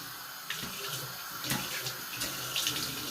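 Water runs steadily from a tap, splashing continuously at a moderate distance. A few soft clatters and knocks sound over the flow, and no one speaks.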